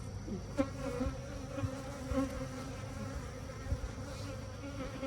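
Honeybees buzz around a hive frame being lifted and checked, a steady close-up hum with layered wingbeat tones and brief louder passes of individual bees.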